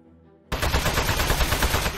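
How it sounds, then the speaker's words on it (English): Rapid automatic gunfire from the Aperture Desk Job game erupts abruptly after a quiet moment and hammers on steadily, shooting at a metal target, loud and close with no talk. "So shoot the metal."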